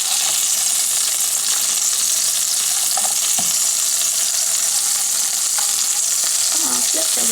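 Tomatoes and mushrooms fry in a pan with a loud, steady, close sizzle that runs throughout, broken by a few light knocks of a utensil against the pan.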